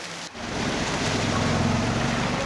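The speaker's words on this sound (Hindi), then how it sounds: "तेज बारिश वहां पर लगातार जारी है।" Heavy, torrential monsoon rain pours in a steady, dense roar in Kulgam, Kashmir, loud and continuous after a brief dip at the start, with no voices.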